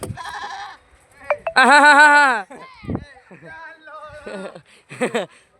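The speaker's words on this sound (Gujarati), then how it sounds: "આ જો બકરી" A goat bleats loudly and up close in a long, wavering cry, with shorter bleats and other goat or sheep calls breaking in before and after.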